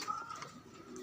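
A pigeon gives a soft, short coo at moderate distance, faint against a quiet background.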